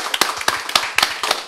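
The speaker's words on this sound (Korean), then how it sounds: "박수!" An audience claps in a quick, brief burst of overlapping hand claps, fairly close and crisp, with no talking.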